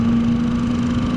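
Exotic sports car engine at a racetrack, running with a steady, loud mid-pitched drone and hum heard close up, no voices, no clear revving in this short stretch.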